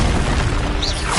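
A Bombarda explosion spell cast in Hogwarts Legacy: a short, heavy boom with a deep rumbling body and a brief bright whoosh near the end, loud and up close.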